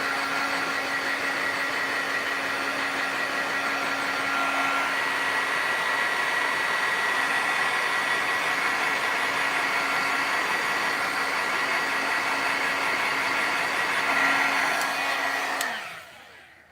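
A hair dryer drying a craft project runs with a steady, loud, close whir and a constant whine for about fifteen seconds, then switches off and winds down.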